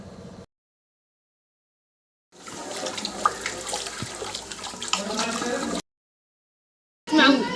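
Water is poured into a pot of rice with nuts and raisins for Bengali pilau, a steady splashing pour of about three and a half seconds between quiet gaps, with a brief burst of sound at the end.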